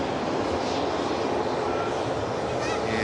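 Aircraft engines roar steadily and loudly during a takeoff roll at Dublin airport, a continuous broadband rumble with no breaks.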